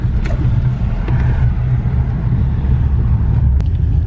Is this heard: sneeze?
no